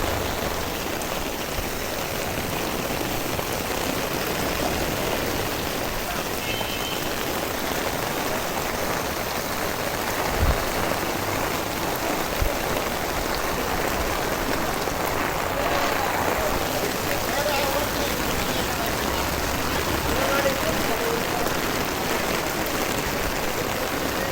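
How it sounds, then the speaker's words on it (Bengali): Steady rain pours onto a street during days of heavy downpour after a hot spell, an even, unbroken hiss of falling water throughout with a few faint knocks. "এখন বৃষ্টি হয়ে ঠান্ডা করে দিছে"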